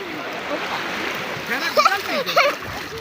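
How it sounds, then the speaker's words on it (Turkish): Sea waves wash and splash at a beach in a steady broad rush, with children's voices and shrieks over the water. "Dalgalar geliyor."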